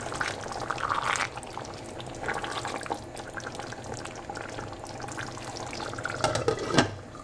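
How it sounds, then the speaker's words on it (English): Water is poured into a chickpea and pepper curry (chana bhuna) cooking in a pan, giving a steady liquid splash and sizzle that runs throughout at moderate loudness and ends with a brief louder burst. "I'm going to add a little bit more water in here as well"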